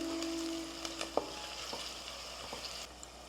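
Food frying in a pan with fennel seeds for goat paya, browning under a soft hiss, with a few clinks and stirring scrapes, close and fairly quiet with no talk.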